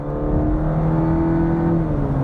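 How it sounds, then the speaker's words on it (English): A 2023 Cadillac CT4-V's rear-drive 2.7-litre four-cylinder engine pulls hard under acceleration, a loud, steady, gruff drone with a slowly shifting tone, close and continuous with no talk. "Very torquey engine."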